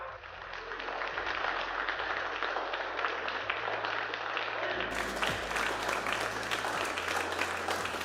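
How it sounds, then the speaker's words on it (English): A rocket launch mission control team applauds after payload deployment on an Electron launch, steady clapping and cheering throughout, mixed with background hum and faint voices. "You heard it there from Mission Control and from the applause from our team"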